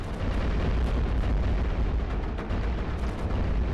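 Cannons fire nonstop in iBomber Defense, a World War II tower-defense game set in Western Europe, with booms and blasts packed into a steady, loud roar.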